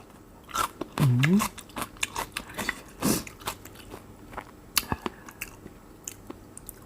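Someone bites and chews crisp fresh vegetables, including yellow eggplant, eaten with fermented shrimp, giving close, crunchy bites followed by softer chewing, with a person talking between mouthfuls.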